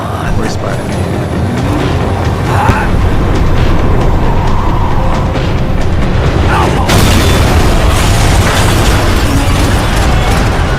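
A tram in the Max Payne 3 video game rumbles as it slows down, a loud, continuous low mechanical roar with metallic clatter and a sharp jolt partway through, under game sound effects.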